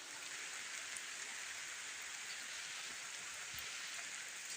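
Heavy rain pours down on a village, a dense, steady hiss of water on surfaces that holds evenly throughout with no voices.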